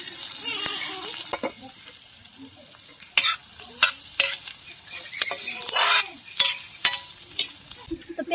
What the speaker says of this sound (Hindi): तेल गर्म हो गया, इसमें डालते हैं प्याज।